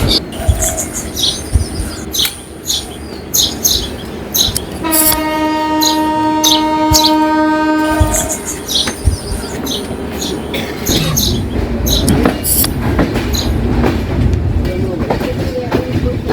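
A train from Dhaka to Santahar rumbles along the rails with clattering wheels, and a loud sustained horn blares midway before the steady rolling noise continues.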